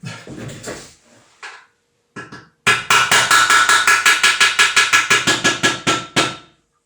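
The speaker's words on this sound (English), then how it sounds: "I'm just going to hammer that through" A couple of light knocks, then a fast, steady run of about twenty loud, close hammer blows driving a part through a 3D-printed piece before it stops.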